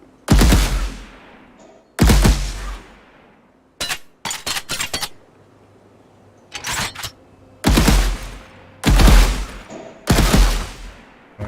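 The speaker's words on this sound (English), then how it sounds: "Get a burst rifle." Burst rifle firing in an Unreal Engine 4 game template, loud close three-round bursts repeated at intervals, mixed with a few quicker rapid strings of shots and quiet gaps between, with no talking.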